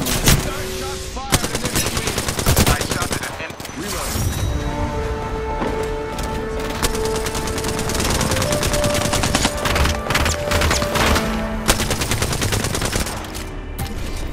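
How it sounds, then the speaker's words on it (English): Rapid automatic gunfire from the video game Apex Legends, dense bursts of shots running nearly continuously and loud, with crashes and impacts mixed in and occasional voices under the fire. "shots fired"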